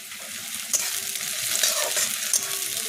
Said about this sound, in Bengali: এরপর আমি এর মধ্যে দেব রসুন বাটা